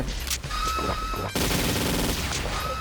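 Rapid bursts of automatic gunfire from the online shooter game XSHOT crackle loudly and continuously, with a sharp cluster of shots partway through and no talking over it.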